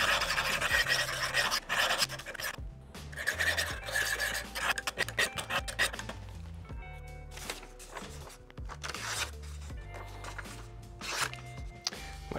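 Dull kitchen knife being sharpened to reestablish its bevels gives repeated raspy grinding strokes against an abrasive stone, in bursts with short pauses, close and fairly loud.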